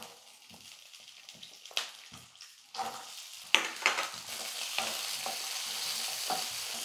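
Shallots and garlic are sautéed in a pan for a Tamil brinjal and black chickpea masala kuzhambu. A sizzle builds over the clip, with scraping stirs and spatula knocks on the metal pan, all close by and without talk.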